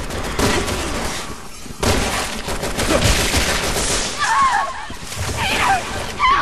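Gunfire crackles through a Resident Evil 6 scene in repeated sharp shots over busy game noise, with a few watery splatters later and voices talking over the action.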